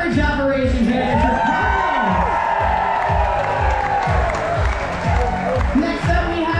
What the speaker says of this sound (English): the biggest round of applause.